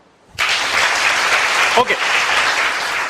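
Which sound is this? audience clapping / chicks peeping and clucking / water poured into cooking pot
audience clapping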